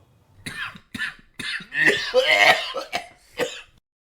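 A man coughs in a series of harsh, close bursts, a few spaced single coughs building into a rough, rattling fit before dying away, used as a sound effect in a horror story reading.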